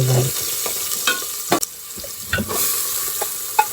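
Small and large onions fry with salt in a pan, a loud close sizzle with brisk scraping strokes of a spoon and a few sharp clanks against the pan, no talking.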